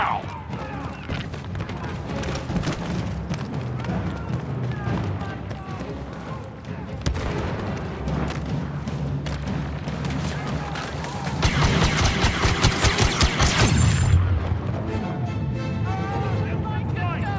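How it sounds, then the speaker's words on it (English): Grenade blast in Star Wars Battlefront II's Blast mode on Mos Eisley: a loud, broadband burst among dense ongoing gunfire and battle noise, with people talking throughout. "Grenade out!"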